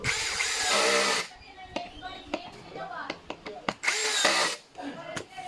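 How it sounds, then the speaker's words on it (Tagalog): A power tool drives a bolt tight while an office chair with black fabric is assembled, with two loud bursts of whirring at the start and near the end and scattered clicks and taps of handling in between. "we need to tighten the bolt"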